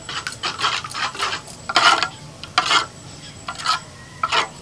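Spices including turmeric and cumin are stirred into mustard oil for mustard hilsa, making a series of short, close, wet scraping and stirring strokes in an uneven rhythm with no talking.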